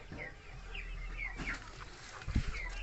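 Rhode Island Red chickens cluck and chirp intermittently nearby, short squawky calls scattered over a soft background, with a low thump near the end.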